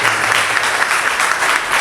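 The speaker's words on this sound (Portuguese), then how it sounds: "aplauso para ele e para essa vez" An audience bursts into dense, sustained clapping at a book launch, a steady wash of applause heard close up for under two seconds.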